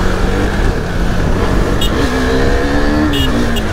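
A modified KTM RC 390 motorcycle engine drones loudly and continuously during a ride, with the pitch rising partway through as it pulls harder. Wind rush fills the background.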